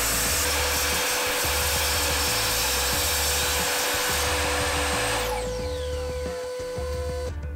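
A miter saw cuts wood against a stop block, its motor whining at a loud, sustained pitch through the cut, then spinning down with a falling tone before a final knock.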